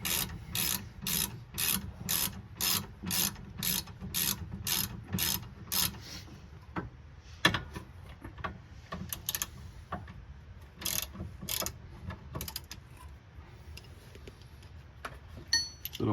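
A ratchet wrench clicks in quick, steady bursts while loosening rear brake caliper bolts on a 2009 Honda Accord, with fast repeated strokes early on, then sparser, irregular clicks and pauses.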